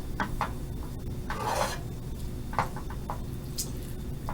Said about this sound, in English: And now I'm just going to stir.